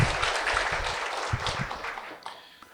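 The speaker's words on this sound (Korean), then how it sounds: "박수 한번 부탁드리겠습니다" Applause from residents at a neighborhood redevelopment briefing in Yangjae 2-dong, Seoul: dense, steady clapping that thins and fades out near the end, with no talk over it.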